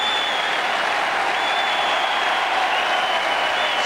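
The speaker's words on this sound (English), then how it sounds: "Standing ovation from the crowd at the MCG." A cricket crowd at the MCG rises in a standing ovation during a 1984 World Series final between Australia and the West Indies, sustained dense applause roaring evenly throughout like a steady wash of noise.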